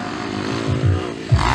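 Motocross motorcycle engine at a dirt-track race, a raspy droning buzz with a couple of short throttle blips, heard at moderate distance and fairly loud.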